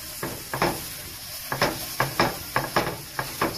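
Onions cook in a pan, their soft sizzle underneath a series of close scraping stirs that come in irregular bursts of sharp strokes, several in quick succession toward the end; no speech.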